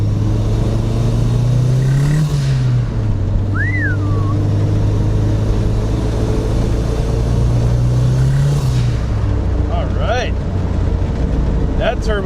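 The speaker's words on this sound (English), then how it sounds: "Oh, turbo's already making boost." A turbocharged Datsun wagon pulls away with its GT3582 turbo building boost: a loud engine drone rises and falls, and a whistling spool and chirps sit above it, with talk over it.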